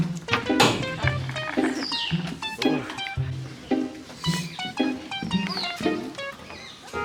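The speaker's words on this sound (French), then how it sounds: "Bonjour les oiseaux." Pigeons and other birds in a busy town square, the Place des Cocotiers, chirping and cooing in repeated short calls close by, mixed with town bustle and faint background voices.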